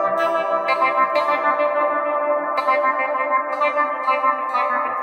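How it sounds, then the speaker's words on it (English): Electric guitar played through a distortion patch on a Joyo PXL Pro multi-effects pedal, a continuous sustained chord with heavy overdriven harmonics and a few bright accents, steady and loud, no talking. "in bypass mode it goes to distortion"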